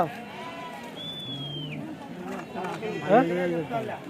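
Sheep bleat at a weekly sheep and goat market in Kadiri, with a few wavering calls rising close by amid crowd chatter and people talking over them.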